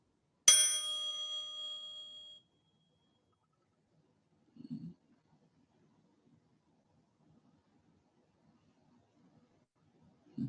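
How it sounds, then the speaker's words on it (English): A single bright bell struck once at a worship gathering, ringing clearly and sustaining for about two seconds before fading, followed by near silence with faint low murmurs. "as I ring the bell"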